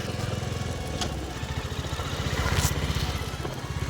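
A motorcycle engine chugs steadily in first gear while climbing an uphill village road, its low rhythmic thrum close and continuous with slight rises in effort.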